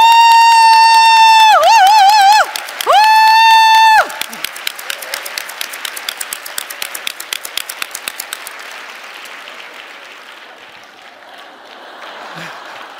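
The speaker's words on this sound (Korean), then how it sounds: "근데 박수가 너무 작아서 박수는 신나게 힘차게 우!" Lively applause from a church prayer-meeting congregation with a whooping cheer, following a sustained loud tone; the clapping starts dense and rhythmic, then thins and fades to a soft patter.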